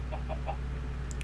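Video game chickens cluck softly in a few short bursts over a steady low hum, with a brief higher squawk near the end.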